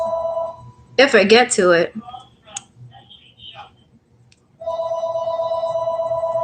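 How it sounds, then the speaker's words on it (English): A store telephone rings in a shop, with a steady electronic trill at the start and again near the end, fairly loud and close, while someone speaks briefly between the rings. "I don't know why the hell the store phone's ringing."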